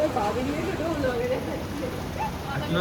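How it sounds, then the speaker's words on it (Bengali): Steady rain falls around a petrol pump, a continuous even hiss filling the short stretch, with faint voices and background activity mixed underneath. "পেট্রোল পাম্পে দাঁড়িয়ে আছি, এখানে বৃষ্টি হচ্ছে"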